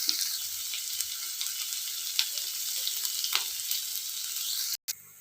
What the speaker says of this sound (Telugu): ఉల్లిపాయలు అయితే ఫ్రై అయినాయండి